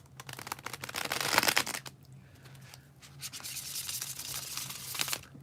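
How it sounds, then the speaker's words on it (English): Tarot cards riffled in a bridge shuffle, producing two bursts of dense, crisp riffling close to the mic with a brief pause between them, heard alone. "when I do the bridge shuffle, like I'm about to do"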